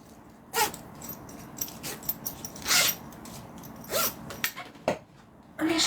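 A length of zipper-by-the-yard tape pulled during home sewing, heard as several short, rasping zips in separate bursts, fairly close, with no talk over them.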